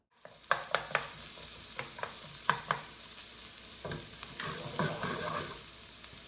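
Cauliflower and carrots sizzle in a very hot pan under a continuous frying hiss, broken by sharp clacks and scrapes of a utensil stirring them, with no talking.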